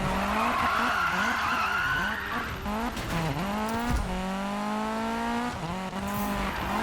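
A Volvo 242 in the Need for Speed 2015 racing game skids sideways, its engine droning and tires squealing continuously with shifting pitch as the car drifts through corners, loud and steady with no talk.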